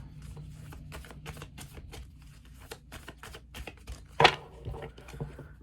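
A deck of cards being shuffled by hand for a card reading: a run of quick, crisp riffling and flicking bursts at close range, with one sharper snap near the end and no talking.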